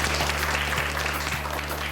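Schoolchildren in a maths class clap together for a couple of seconds, a faint, muffled patter of hands over a steady low hum in the room.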